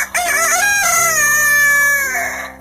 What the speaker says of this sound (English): I bet you guys never knew there was this many different breeds of chicken and rooster.